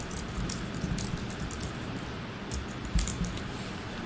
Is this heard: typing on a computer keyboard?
yes